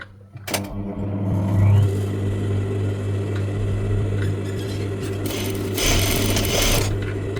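A sewing machine stitching the neck lining of an Arabic traditional dress runs steadily with a loud, continuous motor hum and rapid needle clatter, close up, after a brief start-up clunk, with no talking.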